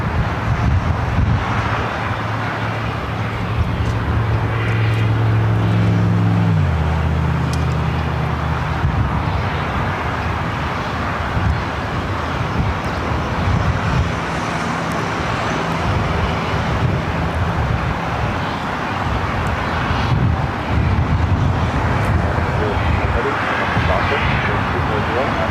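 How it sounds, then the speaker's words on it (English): An Air New Zealand Boeing 777-300ER at LAX, with continuous jet engine noise, a low whine that drops midway, and wind buffeting the microphone while people talk over it. "Again, this is Air New Zealand Flight 6, the flight coming from Auckland, 777-300ER."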